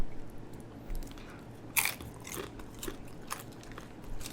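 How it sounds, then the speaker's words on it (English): Crunchy air fryer nacho chips topped with habanero, onions, ground beef and four-cheese blend being bitten and chewed up close, one sharp loud crunch followed by several softer crackling chews. "The chips are so perfectly crunchy."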